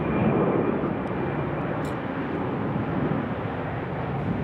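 Fixed-wing airplane taking off from runway 34 right at Lake City International airport, a steady broadband engine roar that stays loud and continuous throughout, with no voices.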